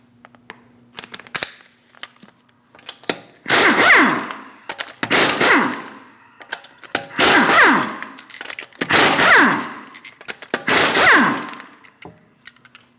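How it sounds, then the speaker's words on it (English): A 19mm socket on a power tool spins five lug nuts off the front wheel of a 2016-2025 Chevrolet Malibu: five loud, evenly spaced whirring bursts of about a second each, with short pauses between them. "Using a 19mm socket,"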